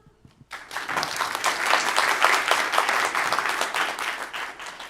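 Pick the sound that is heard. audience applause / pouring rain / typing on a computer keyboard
audience applause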